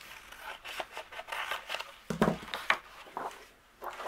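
Paper cut-apart sheet being trimmed after die cutting, heard as soft irregular rubbing and snipping scrapes with a few sharper clicks, close and quiet, no talk.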